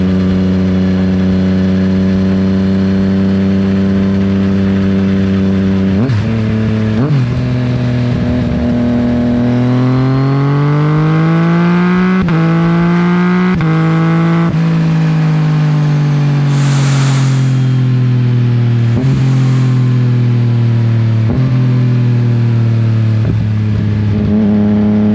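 A 2024 Yamaha XSR900 motorcycle with a full system exhaust idles with a loud, steady rumble, then is revved repeatedly. The engine pitch climbs and falls in several surges, heard close up with no talking.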